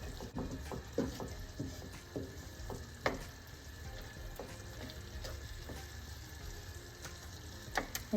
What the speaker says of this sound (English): Give it a little bit of a stir and just wait for the cheese to melt.